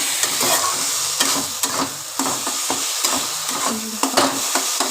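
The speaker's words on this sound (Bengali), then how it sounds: "এইভাবে ভালো করে নেড়ে নেড়ে নেড়ে নেড়ে রাখবো" A bharta mixture with a pinch of sugar is stirred in a hot pan, and a spatula scrapes and knocks repeatedly in an uneven rhythm over a continuous close sizzle, with no talking.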